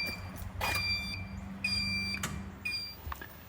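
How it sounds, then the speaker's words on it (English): A no-battery alarm buzzes in repeated beeping bursts from a large solar inverter, a Sol-Ark 12K temporarily installed to charge a Fortress eVault 18.5 battery, sounding at moderate level over a low electrical hum. "That was the no battery alarm"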